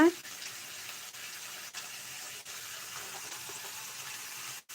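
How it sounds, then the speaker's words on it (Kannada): Chopped onions fry in a pan for avarekalu upma, giving a continuous soft sizzle with a few faint scraping stirs; no voice is heard. "ಈ ರೀತಿ ಸ್ವಲ್ಪ ಫ್ರೈ ಮಾಡ್ಕೊಳ್ಳಿ ಈರುಳ್ಳಿ ಎಲ್ಲ"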